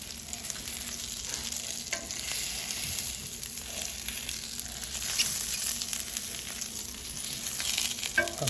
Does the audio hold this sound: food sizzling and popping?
yes